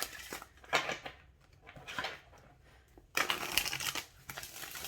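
An oracle deck of cards is shuffled by hand, with quick bursts of riffling and sliding card noise separated by short pauses, close and fairly quiet.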